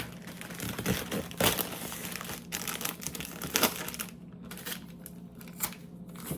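Packing tape on a comic book box crinkles and rips in short bursts close by, with quieter rustling between the louder pulls.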